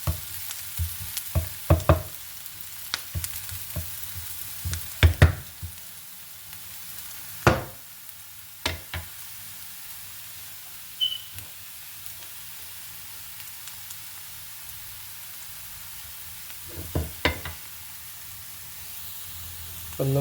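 Onions fry in a pan with a steady, soft sizzle, broken by scattered sharp scrapes and clacks as they are stirred, with no one talking.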